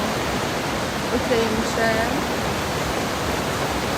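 River water flowing, a steady broadband rush close by, with a person speaking briefly over it midway.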